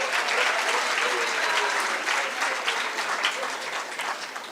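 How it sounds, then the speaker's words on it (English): Steady applause from a sizable crowd at a graduation ceremony in Gauteng, dense clapping sustained throughout at a fairly even level with no voices standing out. "Let's give them a round of applause."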